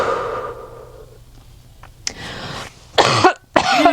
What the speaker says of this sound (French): Et je tousse aussi.